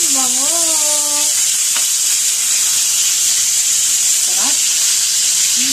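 Food fries in a pan with a loud, constant steamy sizzle, while people talk briefly over it.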